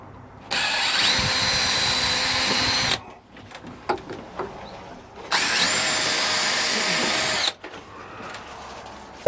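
A power drill bores pilot holes to screw a mount in place, as part of household repair chores: two sustained high-pitched whining bursts of about two and a half seconds each, close and loud, separated by handling clatter and knocks.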